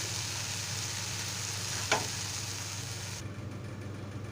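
Dried fish curry with coriander sautéing in a pan, a steady soft sizzle running throughout with one brief scrape of the spoon midway and the sound dropping slightly toward the end.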